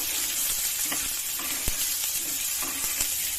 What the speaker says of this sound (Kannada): ಈಗ ಈರುಳ್ಳಿ ಹಾಕ್ತೀನಿ. ಫ್ರೈ ಮಾಡ್ತೀವಿ.